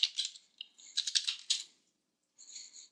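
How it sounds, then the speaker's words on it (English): A password is typed on a computer keyboard in quick, close, light clicking bursts, with a brief pause and then a final short run of keystrokes. "type in my password"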